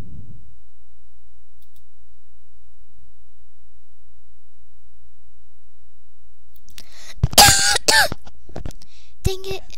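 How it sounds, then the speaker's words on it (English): A child coughs in a short cluster of loud, close, harsh bursts near the end, after a long stretch of near silence, with a final single click-like cough. "Dang it, I just keep coughing."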